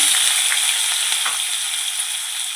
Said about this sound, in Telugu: ఇప్పుడైతే ఆయిల్ అనేది వేడెక్కింది. ఇప్పుడు జీలకర్ర వేసుకోవాలి. కట్ చేసుకున్న ఉల్లిపాయ ముక్కలు